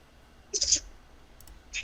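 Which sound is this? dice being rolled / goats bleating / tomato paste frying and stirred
dice being rolled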